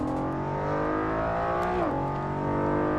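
Honda NSX GT2 race car in the Assetto Corsa racing game, engine droning steadily at high revs, loud and close, with a quick dip in pitch as it shifts, and no talking.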